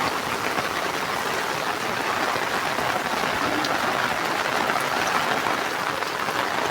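Heavy monsoon rain pours down over a village rooftop and farmland, a dense, continuous roar of rainfall at constant loudness with no pauses.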